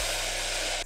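A hair dryer blows steadily at close range for under a second while hair is blow-dried in sections, a constant broadband rush that cuts off abruptly at the end.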